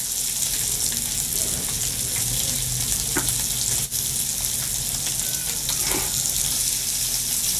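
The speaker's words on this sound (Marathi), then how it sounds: "मस्त मासा भाजलेला आहे।" Catla fish slices coated in masala and rawa fry in a pan with a steady, close, dense sizzle and crackle throughout, broken only by a brief dip near the middle.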